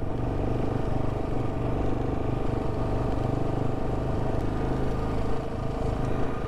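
A motorcycle engine drones steadily while riding on an off-road adventure trail, a continuous close mechanical hum with faint clatter and no pauses or talk.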